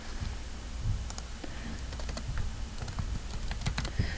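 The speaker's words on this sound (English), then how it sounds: "I need to type the word chef, not human." Fingers tap a computer keyboard in quick, uneven clusters of close clicks over a steady background hiss.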